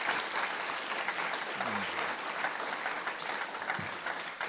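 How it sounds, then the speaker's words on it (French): A studio audience on a French talk show claps steadily to welcome two guests, a dense, even applause at moderate distance with a couple of faint voices underneath. "on peut les applaudir."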